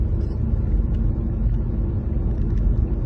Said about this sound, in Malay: Kereta laju-laju nampak?